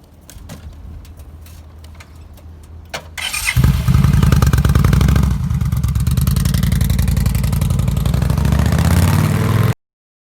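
A motorcycle starts after a few quiet clicks, then its engine catches loudly around the midpoint and runs on at a steady, close, strong rumble that builds as it pulls away, cutting off abruptly at the end.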